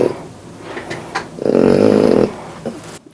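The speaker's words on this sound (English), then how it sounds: "all we do is just hear him snore" A French bulldog snores close by, giving a loud rumbling, rattling breath in the middle with softer snuffling breaths before and after.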